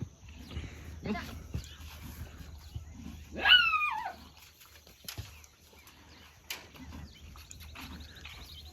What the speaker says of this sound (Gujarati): કૂતરું ના પાડે છે કે અહીંયા આવતો નહીં.